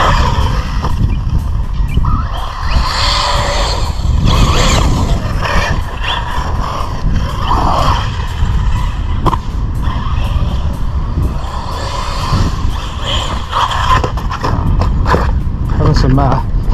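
A Team Corally Asuga RC buggy being bashed over jumps, its electric motor whining and tires scrabbling in bursts across loose ground, close and loud, with someone talking over much of it.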